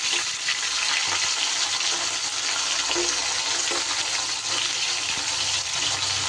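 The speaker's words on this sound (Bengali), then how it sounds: "সুন্দর করে একটু ভেজে নেব।" Hilsa fish heads fry in hot oil, producing a steady loud sizzle and crackle that fills the whole stretch without pause, with no voices over it.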